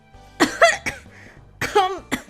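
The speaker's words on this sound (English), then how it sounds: "Having tried to wolf down a whole mouthful of bacon, egg, and toast, I start to cough." A video game character coughs several times in quick, harsh bursts after gulping down bacon, egg and toast. The coughs are close, loud and alone.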